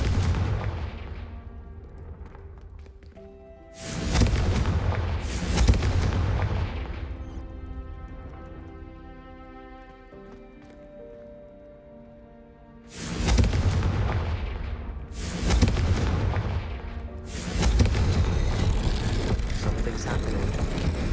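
Fire spell blasts boom in Hogwarts Legacy: several heavy, loud explosions in separate bursts, each with a roaring rumble tail, separated by quieter stretches of ambient game music.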